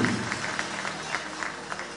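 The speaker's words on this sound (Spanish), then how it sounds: "Y sus aplausos y esa palma, por favor, para la reina de la institución educativa secundaria José María Morante." An audience applauds for the queen at a school coronation pageant in Ocoña, steady scattered clapping from a crowd heard at some distance, fairly even throughout.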